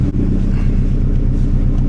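Subaru WRX STI engine idling close by, a loud, steady low rumble with even pulsing and no talk.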